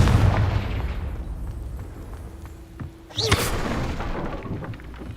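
The fire spell Confringo goes off in Hogwarts Legacy as one sudden, loud burst with a hissing flare, rising out of low rumbling ambience and fading slowly.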